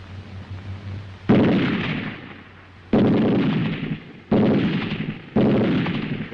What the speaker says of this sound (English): The steady, sharp reports of rifle fire from both flanks and the bursts of covering fire from the machine guns.